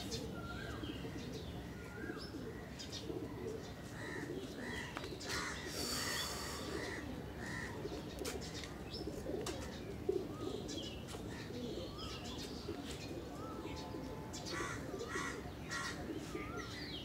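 Pigeons cooing and fluttering among crows cawing and other birds chirping, a busy, moderately quiet outdoor bird chorus that lasts throughout, with no speech.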